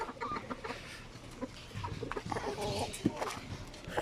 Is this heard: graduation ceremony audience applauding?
no